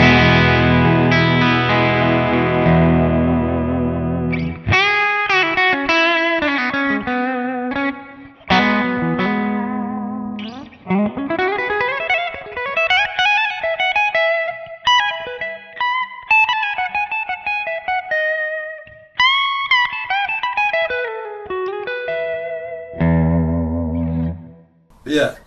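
A distorted electric guitar, a Sire S3 on its bridge pickup, with a bright, cutting tone plays chords and quick single-note runs, loud and continuous with effects-laden sustain.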